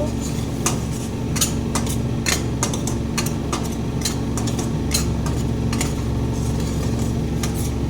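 Spice paste of turmeric, dried and green chilli, onion and tomato is stirred and fried in a pan for boal fish curry, with repeated metallic scrapes and clinks over a steady low hiss.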